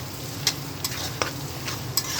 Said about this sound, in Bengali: পেঁয়াজ কুচিটা দিয়ে দিলাম, একটু ভালো করে ভেজে নেব